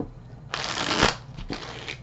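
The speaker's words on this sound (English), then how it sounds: "I, of course, like to shuffle on camera." Tarot cards being riffled and shuffled close up, two quick bursts of crisp flapping, the first longer than the second.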